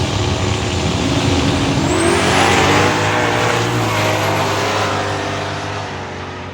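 Loud roar of drag racing cars, including a yellow Mustang, launching down the track at a Sick Summer event, engine note sweeping upward then fading as they pull away.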